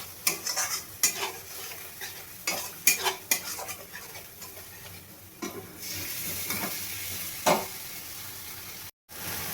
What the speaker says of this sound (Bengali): অল্প একটু নেড়ে চেড়েই আমি জল দিয়ে দেবো।